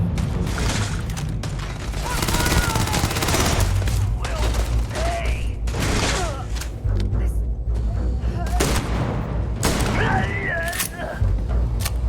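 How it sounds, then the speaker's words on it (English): Shotgun fire and combat in the space game Starfield: dense, repeated booming blasts with whooshing and metallic effects over a constant din, with a voice talking intermittently underneath. "Thank God for the shotgun."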